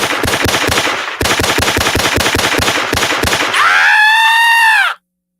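A gunfire sound effect played loudly through a soundbar, fast automatic bursts of rattling shots with a short break, then ending in a sharp ringing electronic tone before cutting to silence.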